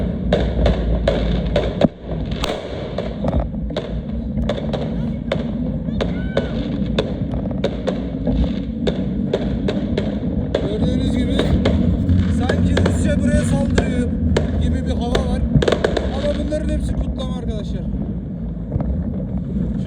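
Firecrackers and fireworks pop and bang repeatedly in rapid, irregular bursts around a noisy street on New Year's Eve in the Netherlands, with a crowd's chatter and wind underneath.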